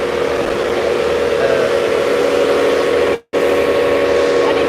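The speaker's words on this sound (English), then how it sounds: "got a noisy bus next to us at the minute" Loud, steady mechanical hum and whine of an electric bus idling close by, droning without pause and cutting out abruptly for a moment before resuming.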